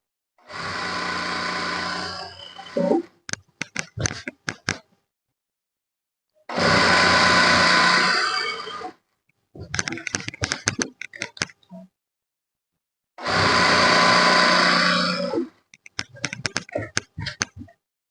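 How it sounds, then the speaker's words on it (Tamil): A sewing machine stitches the side opening of a chudidar, running in three steady bursts of a few seconds each. Between the runs come clusters of sharp clicks and taps. "இப்போ நம்ம சைடு ஓப்பனை தைக்க போகிறோம் பாருங்கள்"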